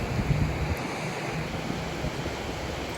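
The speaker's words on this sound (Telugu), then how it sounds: "చూసారా అలలు అసలు ఎలా ఉన్నాయో." Sea waves wash steadily onto a beach at sunset, a continuous roar of surf mixed with wind buffeting the microphone, with no voices.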